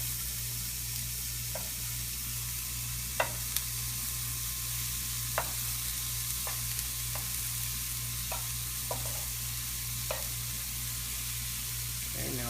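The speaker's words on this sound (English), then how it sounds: "see these are starting to get caramelized here on the bottom, and we just roll them on up" Turkey meatballs sizzle steadily in a pan, a constant frying hiss with a low hum beneath, broken by occasional soft clicks and taps as they are rolled to the side.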